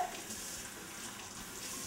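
Tap water runs steadily from a kitchen faucet onto a tea towel, a soft continuous hiss with no pauses and no talking.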